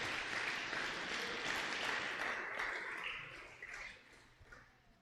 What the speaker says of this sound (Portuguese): Dê um aplauso a Deus, se é para Deus pode ser.